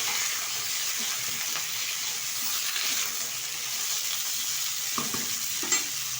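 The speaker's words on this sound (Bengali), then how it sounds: "ভালোভাবে নেড়ে চেড়ে নিচ্ছি।" Steamed potato and cauliflower are stirred in hot oil in a wok, a soft steady sizzle with occasional scraping clinks of the spatula, fairly quiet and close.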